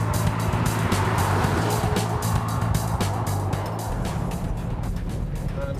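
A Volvo V40 R-Design in performance mode runs fast in the outside lane of a high-speed bowl, its engine a loud, steady drone with rushing road and wind noise heard from inside the car.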